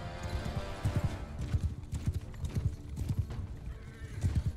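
Horses gallop in Mount and Blade Bannerlord during a battle with horse archers, rapid rhythmic hoofbeats pounding continuously and loud, with a neigh mixed into the game's battle din.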